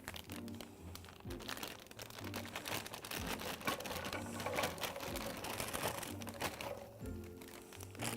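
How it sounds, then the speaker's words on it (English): Dense, crackling sizzle of 12 ounces of fresh green beans frying in butter, steady and close throughout, with occasional clatter and shuffling on top. "You can already hear them starting to sizzle."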